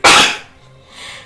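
A person gives one sharp, loud sneeze up close, followed by a soft breathy exhale as it fades.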